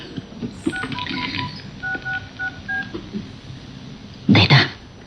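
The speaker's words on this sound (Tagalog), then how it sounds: "agringan ti cellphone na." A run of short, evenly spaced cellphone keypad tones as a number is dialed in a home setting, with background talk and noise, followed by a louder burst of sound near the end.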